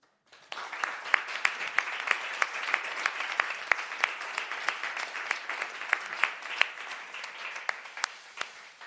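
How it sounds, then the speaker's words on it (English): An audience applauds the panelists at the end of a talk and panel on genetic big data and AI, with steady moderate clapping and sharp individual claps standing out throughout. "A big round of applause for the panelists"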